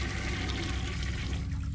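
A toilet flushing in the horror video game City of Nightmares, a dirty brown-water toilet giving a loud, continuous gurgling rush of water that fills the whole moment without any talk.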